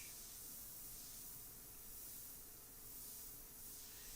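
Airbrush spraying paint for an edgy portrait, giving a steady, continuous hiss that holds even throughout, with slight swells in loudness and no talking.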